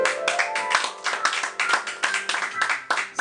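An audience at a slam poetry evening claps warmly, a dense, steady patter of many hands sustained throughout with slight swells and dips.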